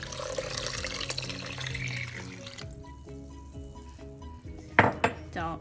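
Four cups of water pour into a soup pot where a quesadilla soup is being made, a hissing liquid rush that tapers off, followed by a couple of sharp clanks of metal cookware near the end.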